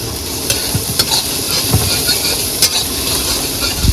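Ginger, garlic and chili paste sizzles steadily in a hot pan while being stir-fried, with a constant close frying hiss broken by occasional soft scrapes and taps of a spoon against the pan.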